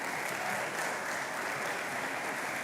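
A graduation crowd at the Lagos Business School executive programmes ceremony claps together in a dense, steady burst of applause, fairly distant and even, with no break.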